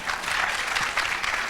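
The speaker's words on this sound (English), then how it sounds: "Huge round of applause for Ramji Bhai." A crowd at a Mahavir Foundation cultural programme claps for Ramji Bhai, a full, close burst of applause with dense overlapping hand claps throughout and no speech over it.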